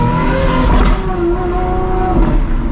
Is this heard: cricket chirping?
no